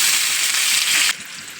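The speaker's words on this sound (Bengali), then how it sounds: "তেল আমাদের গরম হয়ে গেছে, এবার আমরা দিয়ে দেবো পেঁয়াজ কুচি" Chopped onion hitting hot homemade mustard oil in a pan, a loud bright sizzling crackle that drops sharply to a quieter fry after about a second.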